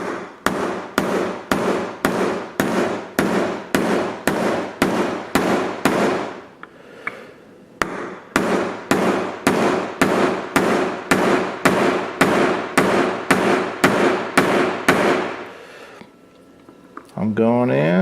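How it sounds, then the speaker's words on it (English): Sharp metallic hammer strikes drive a 3mm punch into a Ruger Mini 14 580 Series rifle, a steady run of about a dozen evenly spaced taps, a short pause, then another long regular series, close and loud. "I'm going to take my punch. In this case, I got a 3mm punch. And I'm going to slowly, I got a pretty good sized hammer here."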